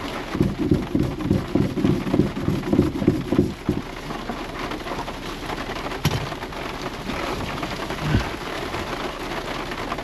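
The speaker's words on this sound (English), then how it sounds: "Oh, it's raining good." Heavy rain pounds a tent while camping out of a Jeep in the Rockies, a dense, steady hiss of drops drumming the fabric up close with louder gusty bursts early on and a sharp crackle near the middle.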